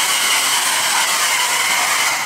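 Steady, close airflow from an EVA NYC mini hair dryer, a continuous broadband whoosh with an even hiss that holds at constant loudness throughout, no nozzle attached and no voices.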